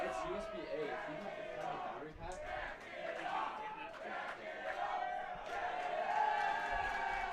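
A stadium crowd rises and cheers for the Arizona Sidewinders against Utah Wild, a loud, swelling mass of voices with shouts and a commentator's voice mixed in.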